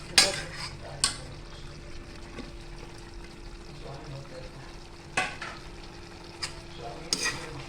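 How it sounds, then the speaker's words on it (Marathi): Vegetable manchurian pakoras are stirred in a frying pan with a spoon, giving sharp scraping clinks over a soft background sizzle close by. "आता आपण त्यात टाकते पकोडे मंचुरियन पकोडे ते आपण हलवून घेऊया"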